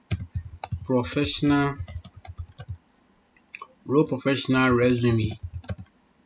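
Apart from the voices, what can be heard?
typing on a computer keyboard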